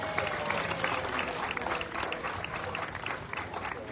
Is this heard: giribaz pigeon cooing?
no